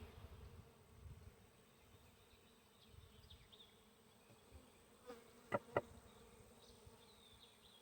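A faint, low buzzing of bees drifts in the background, with a couple of brief sharp knocks near the end.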